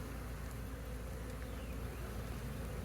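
Bees swarm and buzz around a hive frame pulled during a log removal, a steady, close, dense hum that never lets up across the short stretch, with no voices.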